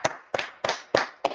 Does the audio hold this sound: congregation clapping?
yes